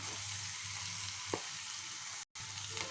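Ginger-garlic paste sizzling steadily in a hot pan while being fried for a chicken fry, a continuous close hiss with a brief stir partway through and a short drop-out near the end.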